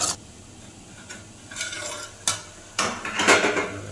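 Tomato chicken curry gravy stirred in a pan with a spoon, close and moderately loud, with scraping strokes at irregular intervals, faint sizzling underneath and no talking.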